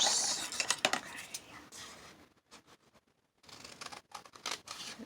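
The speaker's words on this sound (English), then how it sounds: "I'm going to cut it here. My scissors." Scissors snip through paper being trimmed to book width for a spring junk journal, a few close, quick crisp cuts followed by quieter rustling and handling.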